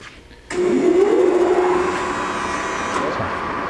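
An Acra-Turn gap bed engine lathe with a 10 horsepower motor starts abruptly, then runs with a loud steady mechanical whir and hum that settles slightly, close by.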